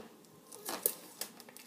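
Adhesive tape pulled from a roll during a home hot-air balloon experiment, a short faint crackling tear with a few sharp ripping peaks, close by and without talk.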